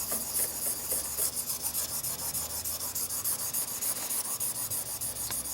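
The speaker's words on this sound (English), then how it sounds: "Notice how easy it is to maneuver this little blade all over the stone, right up to the corners." A small Bleum plane blade held in a jig being honed on a sharpening stone, a steady close-up rasping scrape repeating in quick back-and-forth strokes throughout.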